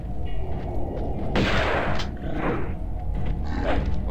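A single sharp gunshot fires in the Tomb Raider video game, bursting out of a dense, steady rumble of in-game background noise, followed by fainter echoing bursts.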